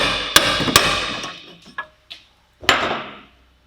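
A spanner is forced on a stuck bolt while a Renault Modus control arm is replaced. Two sharp metallic knocks come first, then softer taps and one more loud clank, close and with no talk.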